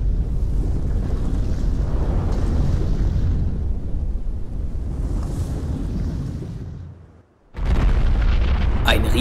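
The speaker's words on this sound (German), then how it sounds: "Ein riesiges Seil knallte auf den Boden und stieg wieder in den Himmel." Audio-drama effect of a giant rope slamming onto the ground, built from a sustained deep rumbling roar that fades nearly to silence before a sharp, loud crashing impact and burst of debris noise.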